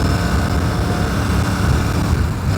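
A Royal Enfield Super Meteor 650 cruiser motorcycle with its 650 twin engine runs steadily nearby, a loud continuous low rumble with no pauses and no voices.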